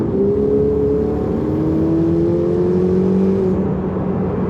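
A loud Ferrari V8 engine revs steadily under acceleration, a dense throaty roar with rising tones, close up and continuous with no speech.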